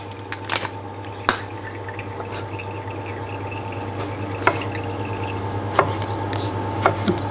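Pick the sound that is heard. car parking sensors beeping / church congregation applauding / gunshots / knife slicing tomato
knife slicing tomato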